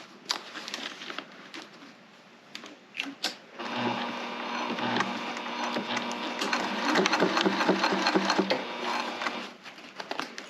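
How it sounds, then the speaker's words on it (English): A sewing machine top stitches a tote bag: a few handling taps, then a steady whirring, rapid needle run that builds and continues close by for several seconds. "I like to do a top stitch."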